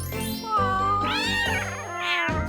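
A kitten gives a long, drawn-out, wavering meow followed by a shorter rising cry, close and clear with no talk.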